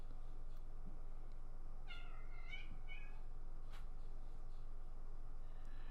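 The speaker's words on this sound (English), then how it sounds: "Oh, those cats, they are so impatient." Impatient cats meowing several times in short, plaintive calls over a steady low background hum, with a couple of overlapping cries in the middle and a fainter one near the end.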